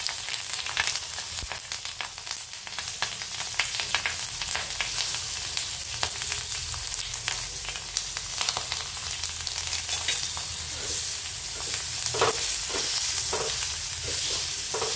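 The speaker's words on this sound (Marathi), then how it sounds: "आता आपण हे तेल गरम झाले तव्यावर, मिरच्या सोडून घेऊ याच्यामध्ये." Green chillies slit and stuffed with salt fry in hot oil on a griddle, a loud continuous sizzle with crackling pops and occasional stirring or pressing sounds, no talking.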